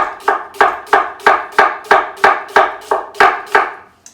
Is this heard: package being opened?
no